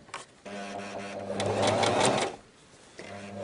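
A sewing machine sews a rib waistband onto a girl's circular skirt, with brief bursts of rapid stitching forward and back separated by short pauses, close and clear.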